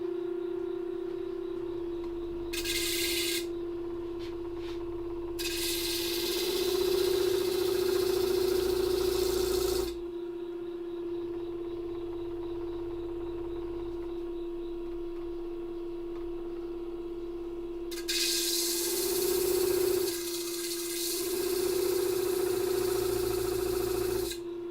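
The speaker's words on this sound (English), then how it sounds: "So we'll grind these real quick, just to flatten them a little bit." A glass grinder hums steadily as stained glass pieces are ground flat, with the motor tone running throughout and harsh hissing grinding bursts as glass touches the bit, nearby and without talking.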